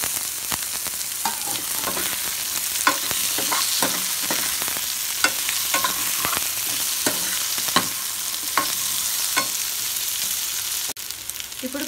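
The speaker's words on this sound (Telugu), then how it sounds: "ఇప్పుడు పచ్చి బంగాళదుంప ముక్కల్ని వేసుకుంటున్నాము." Raw potato pieces sizzle and fry in a hot pan, a steady close crackle broken by scattered stirring clicks and scrapes, with no voices.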